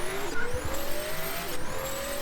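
A car in Automation, a car company tycoon game, accelerates hard, its engine note climbing steadily through the gears in a continuous rising whine, loud and close with no talking.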